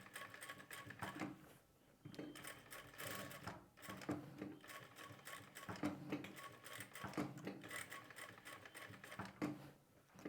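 A sewing machine runs slowly and steadily, stitching a border along a blouse neckline, its rapid mechanical chatter pausing briefly every couple of seconds, close and fairly quiet, with no talking.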